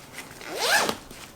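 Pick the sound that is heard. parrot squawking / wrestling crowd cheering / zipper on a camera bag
zipper on a camera bag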